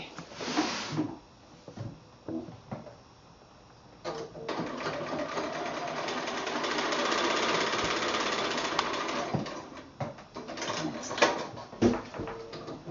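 A sewing machine stitches a quilt block along a diagonal line across a square, running in a steady sustained whir for several seconds after short starts and stops, with light handling clatter around it and no talking.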